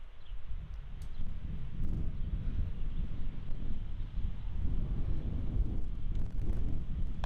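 Strong gusting headwind buffets an exposed hole on a disc golf course at the North Island Championships, a loud, continuous low roar of wind against the microphone that swells and eases throughout.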